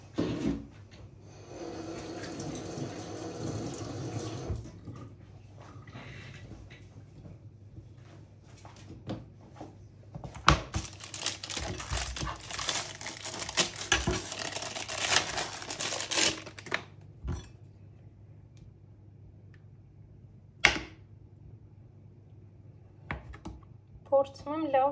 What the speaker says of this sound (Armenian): Միգուցե այս բանջարեղեն կտրելու ձարքով ավելի լավ է լինում։